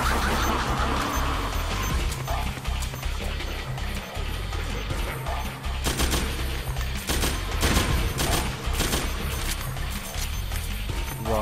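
Rapid bursts of gunfire from the stealth-action game Metal Gear Solid 4: Guns of the Patriots, with dense crackling volleys and mechanical clatter filling the mix, several sharp loud bursts clustered in the middle.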